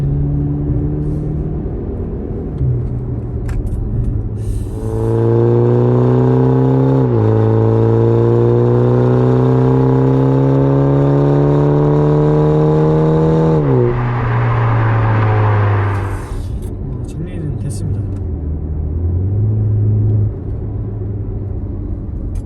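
A BMW X4 20i idles with a deep open variable exhaust, valve forced open, then revs up in a long steady climb, drops back to a loud idle, and settles down again.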